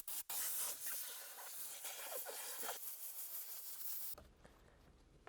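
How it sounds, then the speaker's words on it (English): Compressed air blasts through a Subaru Outback interior, a steady loud hiss with sharp spraying bursts close by that stops abruptly near the end, leaving quieter background. "Compressed air is your best friend on the interior."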